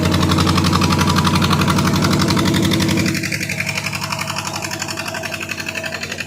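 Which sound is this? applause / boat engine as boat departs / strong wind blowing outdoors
boat engine as boat departs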